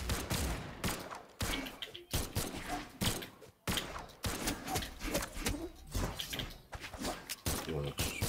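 Repeated gunfire in the video game Brawlhalla, choppy bursts of shots with brief gaps between them, mixed with game effects and a busy in-game background.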